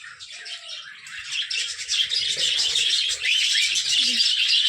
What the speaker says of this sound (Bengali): চলো পাখির এখানে দেখি একটু কি করছে